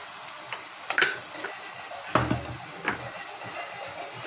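Ingredients for mutton dum biryani sautéing in a pan: a faint, steady sizzle with a few soft stirring scrapes and light utensil clinks, fairly quiet throughout.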